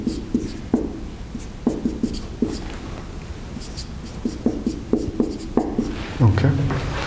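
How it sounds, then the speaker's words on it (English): A lecturer writing by hand during an electrical engineering lecture, with faint scratches and light taps of a pen or chalk on a writing surface, scattered and uneven, over a quiet room hum. "let me write this."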